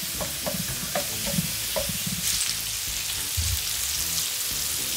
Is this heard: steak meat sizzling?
yes